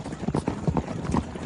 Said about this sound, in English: Rider coming up fast.